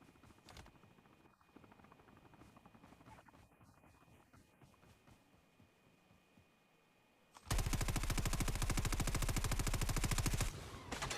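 Helicopter in a mobile shooter game: a loud, steady rapid chopping thrum comes in midway and holds for about three seconds, following quieter game noise and scattered shots.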